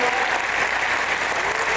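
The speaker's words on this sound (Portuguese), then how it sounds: "Gente, Ana Júlia e João, vamos dar uma salva de palmas aqui pela canal." Thick, continuous applause fills a church youth service as the congregation cheers a couple, a brief, even wash of many hands.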